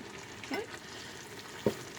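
A butternut squash and mushroom risotto simmers in a pan, giving a soft steady sizzle. Two brief scrapes of a spoon stirring it stand out close by, with no voices.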